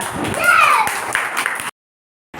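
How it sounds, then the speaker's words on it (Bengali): Children in a pre-primary classroom clap their hands in applause, a dense burst of claps mixed with voices and shouts for under two seconds before cutting off. "আর ওর জন্য একটা জোরে হাততালি দিব আমরা"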